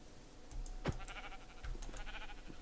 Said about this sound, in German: Das ist ein Schaf.